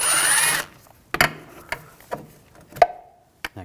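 A T25 socket works a screw loose on a 2006-2009 Audi S4 during HID ballast control module replacement: a brief whir, then a series of sharp, separate ratcheting clicks close up.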